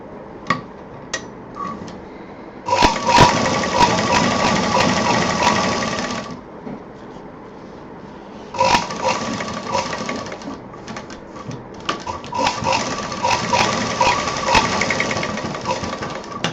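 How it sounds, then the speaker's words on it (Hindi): Sewing machine stitching a DIY party-wear purse, running in long steady bursts separated by pauses, loud and close, with small clicks and handling noises between runs. "इसी तरह से दूसरी तरफ का भी सिल देंगे।"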